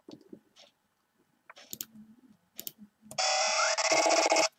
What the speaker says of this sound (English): Why are you ringing the doorbell, but already by why the door's open?